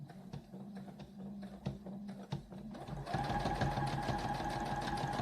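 A home sewing machine stitches a patch onto work pants, first with slow, spaced clicks and then a steady, fast whirring run of stitches, close by and fairly quiet.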